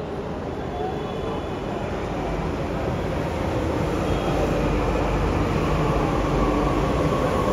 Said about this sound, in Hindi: मेट्रो स्टेशन पे मेट्रो का वेट करते हुए, और ये मेट्रो आ चुकी है हमारी।